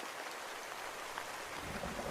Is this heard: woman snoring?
no